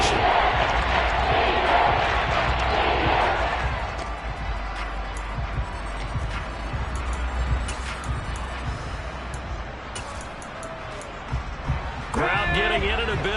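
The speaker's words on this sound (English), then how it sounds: "Crowd getting in it a bit already" A broad roar from a football stadium crowd at a Commanders vs Philadelphia game swells and stays constant under a commentator's steady play-by-play. It rises louder at the start and again near the end.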